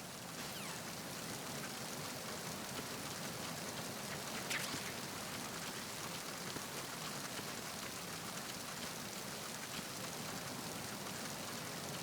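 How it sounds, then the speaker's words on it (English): Steady rain hisses down on the deck of a ship in Metal Gear Solid 2, a soft, even wash of drops with no voices. "Suppose it started raining again."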